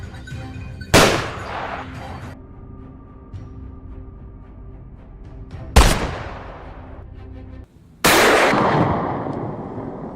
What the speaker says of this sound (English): The gunshot shattered the afternoon's stillness like a whip lashing through the air.